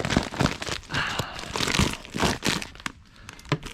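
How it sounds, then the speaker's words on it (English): Insulation being cut off HVAC ductwork on a new system, with repeated crinkling, crunching and tearing bursts at an uneven rhythm, close up and fairly loud, with no voices. "Insulation cut off."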